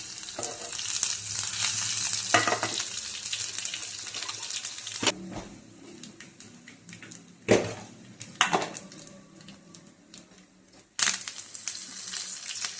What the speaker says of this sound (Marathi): थोडी जिरी टाकू, लसूण टेचून घेतलाय हा पण टाकू.